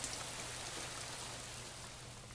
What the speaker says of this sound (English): the rain hath slowed